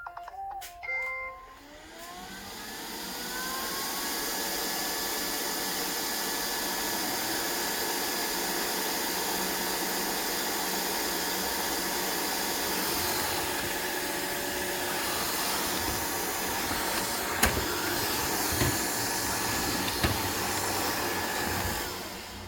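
A Neato Botvac D7 robot vacuum with a faulty wheel motor starts up with a few beeps and then settles into a steady, fairly faint whirring drone, with a couple of brief clicks near the end.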